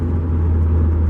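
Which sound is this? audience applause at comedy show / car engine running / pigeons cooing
car engine running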